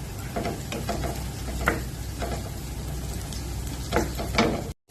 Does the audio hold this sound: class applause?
no